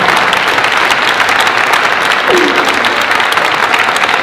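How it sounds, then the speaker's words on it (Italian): Loud, dense audience applause at a Christmas presentation event in Agliè, continuous close clapping from a full room, steady and with no talk over it. "io farei un applauso a questo spirito"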